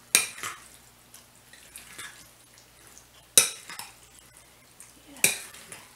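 A spoon scrapes and clinks against a cooking pot while green beans are gently folded, three sharp metallic knocks standing out over soft stirring and faint sizzling.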